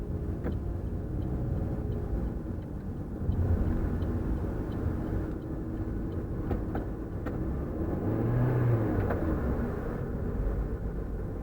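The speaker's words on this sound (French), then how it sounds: "il se rabat un peu trop rapidement et met les pleins gaz pour bien asphyxier le cycliste" A car overtakes a cyclist on a road and accelerates at full throttle, a loud, steady engine rumble and roar that swells as the throttle opens, heard near and continuous, with no talking.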